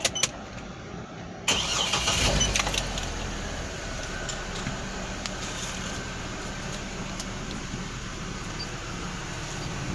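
A black 2010 Hummer H3 with automatic transmission cranks briefly and fires up with a loud surge, then settles into a steady, even idle heard from inside the cabin, with a few faint clicks at the start.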